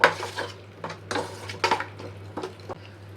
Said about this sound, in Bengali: এবার এটা দিয়ে আবারও ভালোভাবে মিক্স করে নেব।